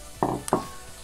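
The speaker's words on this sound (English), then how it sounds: "frying up in the background is the second test patty." Meatball test patty sizzling in a pan in a home kitchen, heard as two short bursts of frying crackle close by, with quiet between them.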